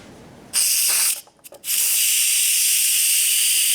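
An Instant Pot doing a pressure release after cooking sausage and cheesy potatoes vents steam with a loud, steady hiss that starts abruptly, breaks off briefly in sputters, then resumes at full strength.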